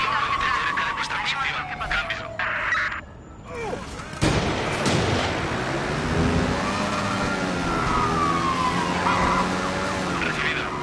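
A wailing police-car siren sweeps up and down in the game Watch Dogs 2, with a sharp cut partway through and busy action sounds around it.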